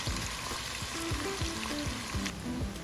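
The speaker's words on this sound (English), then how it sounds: "Time to put in your onions and let it fry a little." Onions frying in palm oil at the start of a Nigerian ofada stew, a steady close sizzle and crackle with soft stirring scrapes throughout, no voices.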